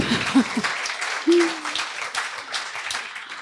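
An audience claps briefly at an evening book event with author Antjie Krog, a moderate spread of applause in a room, with a voice heard faintly near the start.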